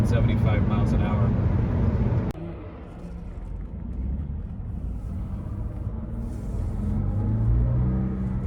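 A 1994 Acura Legend GS with a 6-speed manual cruises at about 75 mph on the highway, engine turning just under 2,500 rpm, giving a steady low cabin rumble and road noise beneath ongoing conversation.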